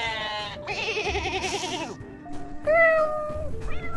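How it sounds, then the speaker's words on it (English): A goat bleats several times, loud and near, in wavering, quivering cries separated by brief pauses, with no voices. "goat"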